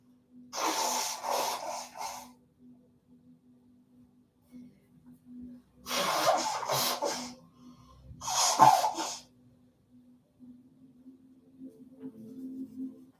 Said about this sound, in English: I'm going to blow my nose in 3, 2